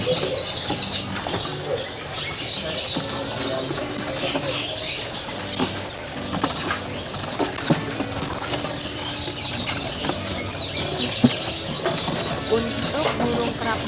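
Dense chorus of caged songbirds and doves at the Depok bird market in Solo, Central Java, with constant chirping, tweeting and cooing packed together over a steady bustle of market noise.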